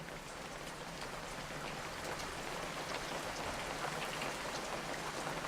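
Rain falls steadily in a video game, a dense continuous patter of drops hitting surfaces at an even moderate level, with no other sounds.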